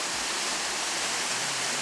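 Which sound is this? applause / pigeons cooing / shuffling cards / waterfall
waterfall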